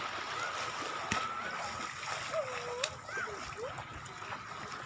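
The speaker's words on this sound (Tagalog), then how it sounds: "Ay, dito po yung dagat namin. Ang lawak yung dagat." Sea water splashes and laps along a wide rocky shore, a steady wash with small sloshes, under faint voices in the background.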